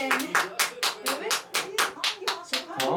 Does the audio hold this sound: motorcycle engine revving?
no